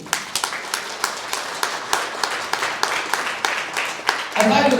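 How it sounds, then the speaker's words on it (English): Scattered audience clapping at a Tamil Heritage Month community program in Canada, individual claps standing out loosely and unevenly, ending in a brief burst of voices. "Let's give a round of applause to the women in our community."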